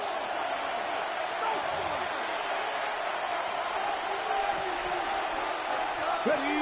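Stadium crowd noise from a Madden NFL football game, a broad steady roar of cheering that holds loud throughout as a 3rd-down play is set up, with the announcers' commentary running over it.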